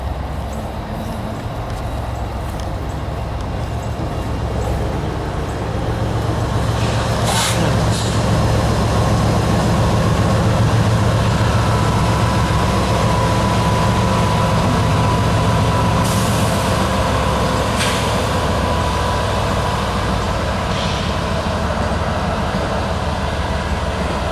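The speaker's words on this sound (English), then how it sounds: "we arrived at the Grand Junction Depot to see Southern 8099 pulling the excursion train" Southern 8099 locomotive pulling an excursion train at the Grand Junction Depot, a steady loud rumble of engine and rolling cars with short hissing bursts like air brakes partway through.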